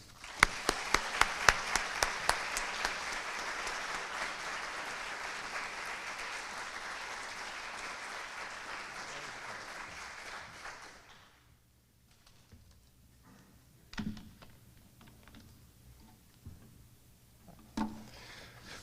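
An audience claps warmly for about eleven seconds to welcome the Humboldt State University Professor of the Year at an award event, then the room goes quiet apart from a few scattered taps and knocks.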